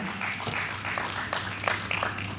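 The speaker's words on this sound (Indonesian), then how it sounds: "Kok tepuk tanganmu ragu-ragu?" Hesitant clapping from a congregation-style audience, fairly faint and uneven, with scattered claps swelling and fading over a low steady hum.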